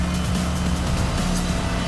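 An Aston Martin Vantage engine roars continuously in the Need for Speed Hot Pursuit racing game, loud and steady with someone talking over it.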